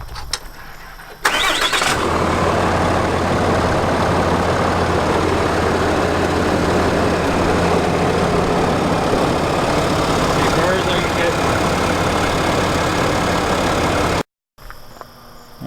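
A 2019 Ram 3500 6.7 Cummins diesel engine turns over and settles into a steady, rumbling idle close by, running continuously before cutting off near the end.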